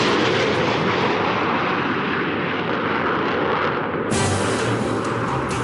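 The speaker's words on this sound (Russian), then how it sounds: "Вот он вылетает из-под крыла бомбардировщика." A loud, steady jet-engine roar as the X-15 hypersonic rocket plane drops away from under a bomber's wing, the broadband rush holding throughout and swelling brighter near the end.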